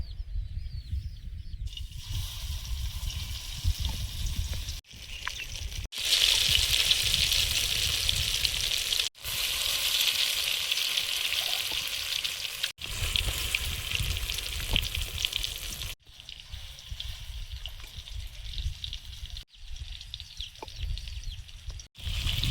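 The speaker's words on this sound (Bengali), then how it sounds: "এর পটলের ভিতরে এভাবে ভরে ভরে ভেজে নেব।" Pointed gourds stuffed with filling fry in oil in a kadai, giving a steady, loud hiss and crackle that runs continuously with brief breaks, no talking.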